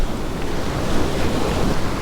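Choppy ocean surf washes steadily onto a beach where someone is fishing. The roar is loud, continuous and broad, with heavy wind buffeting the microphone.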